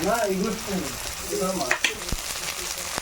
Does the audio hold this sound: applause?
no